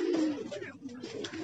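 Pigeon cooing close by in a short, soft burst of low throaty notes, with light background noise.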